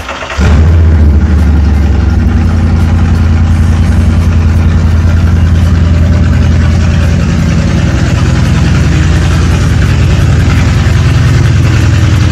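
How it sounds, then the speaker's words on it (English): Supercharged VW Vento VR6 running with only a downpipe for exhaust, a loud, deep, steady idle rumble close by throughout. "obviously with that car it's only got the downpipe, it's going to be loud"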